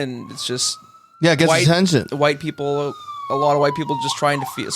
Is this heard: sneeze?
no